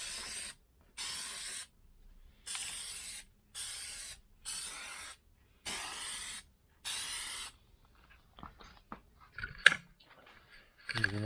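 Plasti Dip sprayed from an aerosol can onto a car's badge and lettering, a fifth coat: seven steady hissing bursts of about a second each, evenly spaced and close, followed by faint handling clicks and rustles.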